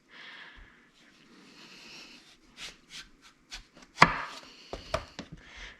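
A knife cuts up an eggplant on a cutting board, producing a series of irregular chopping thunks and slicing scrapes, quiet and close, with short pauses between cuts.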